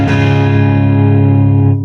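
An electric guitar played through an Orange Crush 12 amp rings out with a crunchy distorted tone, a single sustained chord held loudly and close before slowly decaying.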